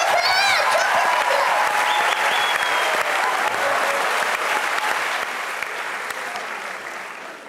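A studio audience at a televised talent show claps steadily to send off a contestant. The applause is dense and loud, then gradually eases toward the end.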